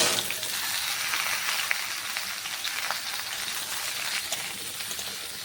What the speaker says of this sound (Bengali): আর এখন ওই গরম তেলে ঝিঙেটা দিয়ে দিচ্ছি